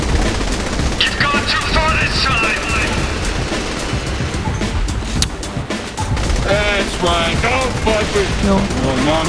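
Gunfire from the video game Saints Row 3 rattles in dense bursts over a loud game soundtrack, with rapid repeated shots and booms throughout and someone talking over parts of it.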